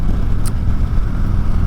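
A 2024 Harley-Davidson Road King with a Milwaukee 8 114 V-twin runs steadily, with a loud, continuous low engine rumble that sounds like riding, plus one brief high click partway through.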